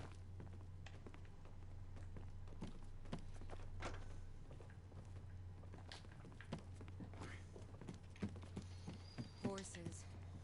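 Horse hooves clip-clop in Skyrim's snowy city of Windhelm, a steady walking patter running throughout under a voice and game ambience.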